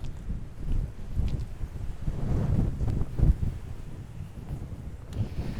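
Strong Aruba wind buffets the microphone in heavy, gusting low roars that rise and fall continuously, with no speech.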